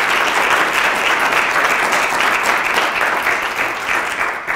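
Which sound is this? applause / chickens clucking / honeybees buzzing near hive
applause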